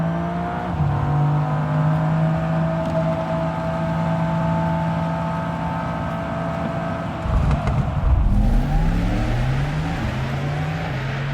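A Mercedes-AMG GT XX electric hypercar drives past with a synthetic drive sound, sustained tonal hums rising and falling steadily, swelling louder and shifting in pitch near the end, with no voices.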